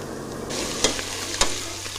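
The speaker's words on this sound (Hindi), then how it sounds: "और इसको अच्छे से फ्राई करेंगे, और इसको बिल्कुल गोल्डन कलर आने तक इसको फ्राई करेंगे।" Onion, garlic paste and ginger paste frying in ghee in a pressure cooker, a steady close sizzle with two sharp scraping stirs.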